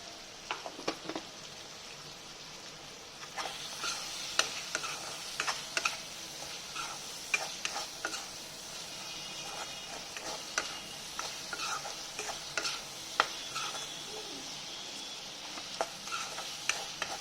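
Spices and salt stirred together in a hot pan: a soft continuous sizzle broken by frequent sharp spoon clicks and scrapes against the metal, close by and without talk.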